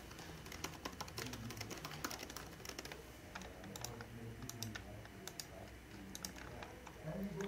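Steady typing on a computer keyboard while writing a blog post, a quick irregular patter of key clicks running throughout at moderate closeness, with soft background sound underneath.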